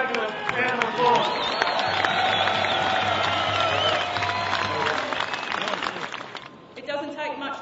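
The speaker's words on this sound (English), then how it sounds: "Round of applause." A crowd at a union rally applauds and cheers, sustained clapping mixed with voices and a low hum, fading toward the end as a speaker begins talking.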